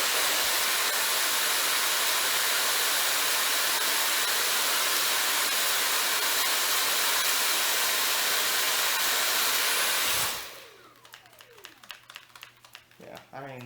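A Dyson V7 cordless stick vacuum runs with a steady, loud broadband whoosh for about ten seconds, then cuts off abruptly, leaving quieter background sounds.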